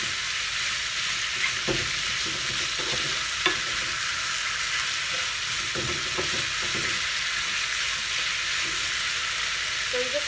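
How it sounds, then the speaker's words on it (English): Spareribs in oyster sauce being stirred in a pan, a steady close sizzle with repeated scraping strokes of the utensil, no voices. "So you just want to stir it until it caramelizes."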